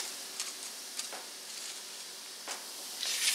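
Rosette batter frying in hot oil that has cooled slightly, giving a steady soft sizzle with occasional faint taps and stirring clicks, close and fairly quiet, with no talking.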